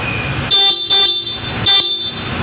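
The thin, nasal stock horn of a Honda ADV150 scooter beeps three times in quick succession, short and loud, over a rumbling idle engine.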